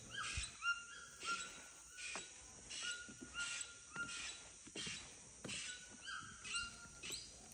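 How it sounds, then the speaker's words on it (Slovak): A toucan in the Peruvian jungle gives a repeated series of short, high, whining calls much like a whimpering dog, spaced roughly every half second, faint and somewhat distant against quiet forest background. "Pripomínalo to kvíliaceho psíka."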